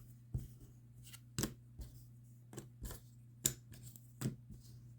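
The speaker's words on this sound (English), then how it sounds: "And I'll shuffle them." Cardboard objective tokens from a Zombicide board game are shuffled by hand on a table, giving a sparse run of soft, dry clicks and taps at an uneven pace, quiet and close with no talking.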